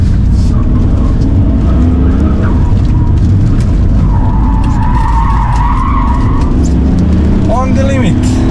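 A BMW E46 330d with a welded differential brakes hard and corners on a race track, tyres skidding and squealing loudly over steady engine roar, with a driver's voice talking over it.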